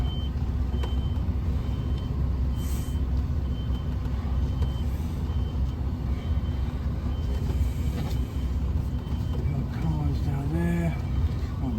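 A UK HGV delivering a crane to a building site reverses with a steady, repeating reversing beep over the loud, continuous drone of its diesel engine, with faint talk near the end.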